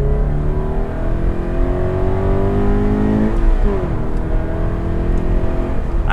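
Scion FR-S pulling hard in second gear to pass a moped on a 45 mph road, engine note climbing steadily and loud throughout, a brief dip near the middle before it keeps rising, close and continuous.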